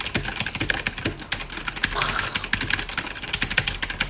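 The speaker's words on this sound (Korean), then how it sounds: "스피커를 끄고 키보드 소리만 들리게 해드릴게요" Close, rapid clatter of computer keyboard typing in an ASMR-style demonstration, with dense, fast key clicks that continue without pause for about four seconds.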